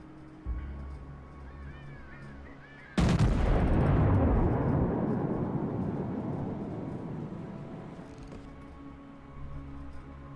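A World of Warships battleship fires a heavy salvo at the Texas, one sudden thunderous blast that rolls and fades over several seconds, with a softer boom near the end.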